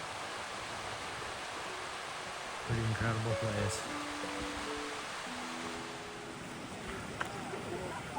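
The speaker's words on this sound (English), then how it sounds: "So here's a little thermal feature right before. Big bubbling up top." A bubbling hot spring thermal feature called Mr. Bubbles in Yellowstone gives a constant rushing, hissing water wash, with a voice speaking briefly over it.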